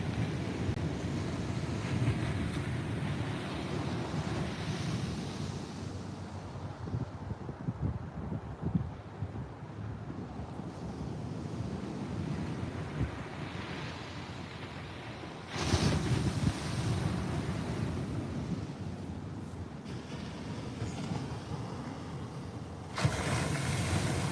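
Waves wash continuously onto a quiet beach south of Vero, Florida, a broad rushing surf mixed with wind buffeting the microphone, with louder swells surging in at intervals.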